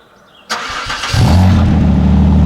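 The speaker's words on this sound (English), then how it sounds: "Let's have a listen then to the Quicksilver Sport exhaust." A Renault Clio V6 engine fires up with a sharp burst, then settles into a deep, loud, rumbling idle through a Quicksilver sport exhaust close by.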